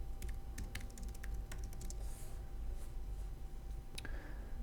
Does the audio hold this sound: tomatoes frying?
no